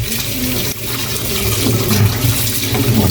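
Raw pork being washed under a running kitchen tap, a steady close stream of water splashing and gurgling for the whole stretch, alone with no talking.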